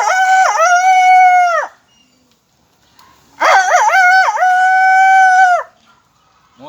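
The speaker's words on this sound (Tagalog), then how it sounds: "madungog ninyo ang tingog sa usa ka manok nga laki" A rooster crows twice, loud and close, each a long strained cock-a-doodle-doo with a short quiet gap between, and no talk over it.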